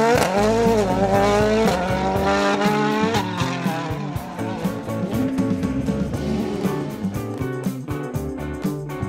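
A loud, continuous race car engine roars and whines through rising and falling pitch, with a few squealing tones, heard close and without speech.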